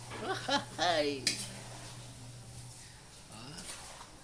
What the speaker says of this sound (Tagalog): Haluin mo nang mabuti